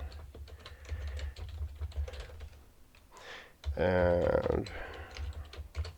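Quick, light keystrokes on a computer keyboard as a password is entered, a steady patter of ticks through most of the stretch, with a brief voice breaking in near the middle.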